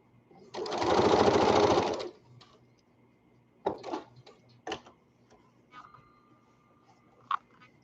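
A serger sewing machine buzzes in one fast burst of about a second and a half while stitching a girl's elastic waist skirt, then stops, leaving several soft clicks and handling taps of fabric and machine.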